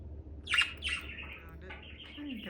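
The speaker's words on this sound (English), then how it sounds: "I have a bird on each side with their own little food dishes." Pet birds in a cage squawk and chirp in short, sharp bursts close by, with quieter chirps in between.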